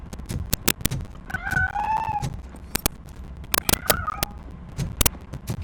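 A cat in the Robocop Rogue City video game meows two drawn-out, rising-and-falling times, with sharp clicks and footsteps scattered around the calls.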